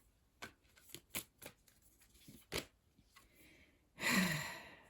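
Tarot cards being shuffled and drawn close up, a series of soft riffling flicks and taps ending in one longer, fuller shuffle, quiet and without talk.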